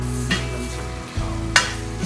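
Meat and onion stir-frying in a hot wok as Sichuan peppercorns go in, with steady sizzling, a couple of sharp hiss bursts and the scrape of a stirring spatula, up close and without talk.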